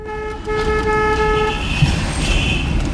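A Tofaş car horn sounds in a horn contest, giving one loud sustained toot for about a second and a half that then fades into engine and road noise.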